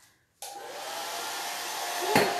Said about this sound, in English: we're gonna be turning on the blow dryer just to get this, just for a minute, just to tack this up